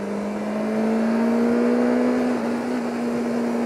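A BMW S1000R inline-four motorcycle engine hums in second gear at a steady high pitch with a slight rise in revs, smooth and continuous against wind and road noise.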